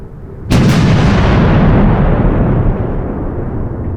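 A single huge artillery blast from a creeping barrage, booming suddenly after a faint start and rolling away in a long, loud rumble that slowly fades.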